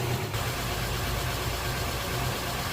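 A Honda Pilot 3.5L engine idling while coolant is purged of air bubbles, a steady, even mid-pitched hum with a faint rhythmic pulse, heard alone and close.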